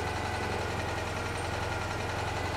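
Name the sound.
Citroen 2CV engine running after starting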